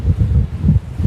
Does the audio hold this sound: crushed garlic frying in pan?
no